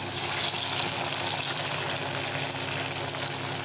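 Colocasia (arbi) pieces frying in hot oil in a kadhai over medium to high flame, a steady, loud, continuous sizzle with no talking.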